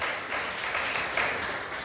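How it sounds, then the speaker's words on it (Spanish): A church congregation applauds, a steady wash of many hands clapping at moderate distance, with no break through the whole stretch. "Denle un fuerte aplauso al Señor"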